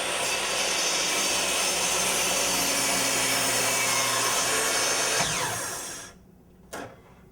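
A mitre saw making a 45-degree miter cut in wood, a loud continuous high whine that winds down and stops, followed by a brief knock.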